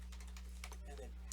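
A computer keyboard clicks through a quick run of close, distinct keystrokes as a username is typed, under a steady low electrical hum.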